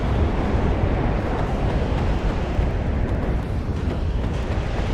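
A loud, sustained roar of blast and rumble fills the scene as an Abrams tank is destroyed in the video game WARNO, a dense, continuous wash with no pauses.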